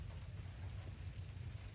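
Steady rain falls outside in a country garden, a dense, even hiss of drops with a low rumbling undertone, constant throughout with no voices.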